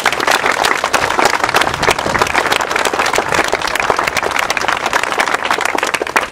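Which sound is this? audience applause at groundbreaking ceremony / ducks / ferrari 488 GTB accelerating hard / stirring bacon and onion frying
audience applause at groundbreaking ceremony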